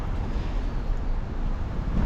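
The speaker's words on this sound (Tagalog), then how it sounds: "lakas ng hangin parang may bagyo" Steady strong wind in Paris roars and buffets the microphone with a constant low rumble, with no voices.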